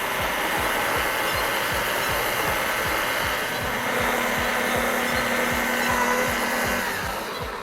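A tile polisher fitted with a 400 grit pad works across a tile surface, a loud, steady motor whir layered with rapid rhythmic rubbing pulses from the spinning pad, continuous and close throughout.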